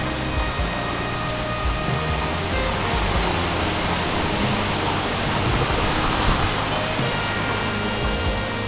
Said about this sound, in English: My God, that waterfall, it was like a cherry on top to our whole adventure here in Palau.